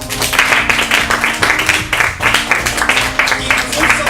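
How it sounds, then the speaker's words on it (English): A round of clapping for author Keith R.A. DeCandido after a reading at a bookshop event, close and fairly loud with uneven rhythmic bursts, while a voice talks briefly over it. "Another round of applause for Keith."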